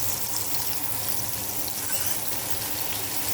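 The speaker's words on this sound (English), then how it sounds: "I'm going to wash my hands." Tap water runs into a kitchen sink as hands are washed while a salmon dinner cooks, a steady, close, unbroken rush with no voices.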